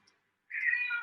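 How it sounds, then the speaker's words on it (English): A house cat lets out a single short meow, a clear rising-then-falling cry lasting about half a second, close and on its own in a quiet room. "And that's my cat."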